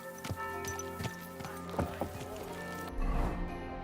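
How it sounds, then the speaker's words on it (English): Horse hooves clip-clop at a walking pace in a video game, the hoofbeats faint and spaced under a low tonal background, ending in a short burst of rumbling noise. "Watch out with that horse!"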